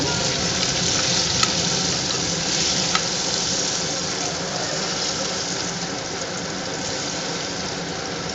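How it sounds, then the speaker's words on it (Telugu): Eggs fry in a pan with chili powder, giving a steady, dense, loud sizzle that continues without a break throughout, close by, with no talking. "అన్ని చేత్తోనే వేసి ఈ విధంగా ఫ్రై చేసుకోవాలన్నమాట."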